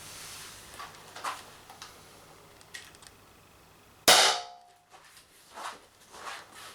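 A stock Beeman BP50 air pistol fires coated steel balls with a single sharp close crack, followed by faint handling clicks and a quiet room.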